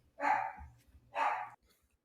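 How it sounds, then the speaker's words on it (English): A pet dog barks from another room indoors, two muffled, evenly spaced barks at moderate distance, with nobody talking during them. "my dog is in there going crazy"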